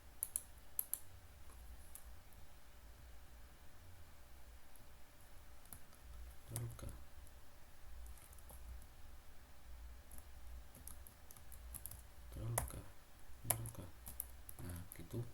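Computer keyboard keys pressed in a few faint, sparse clicks against quiet room tone, with brief speech.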